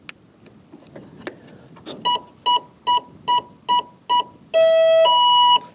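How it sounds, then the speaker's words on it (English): An RC model aircraft's electronic speed controller, just connected to a 6-cell battery pack, gives six evenly spaced loud electronic beeps after a few soft handling clicks, then ends with a longer sustained tone. "It's beeped at me 6 times to tell me it's a 6-cell pack"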